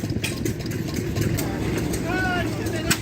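Antique Wallace tractor engine idling at an outdoor antique power show, a steady low rumbling purr close by, with people talking over it.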